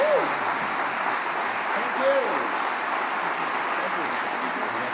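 An audience applauds award winners at the DesignEuropa 2024 ceremony with sustained, even clapping from a large hall, and a voice speaks faintly over the applause.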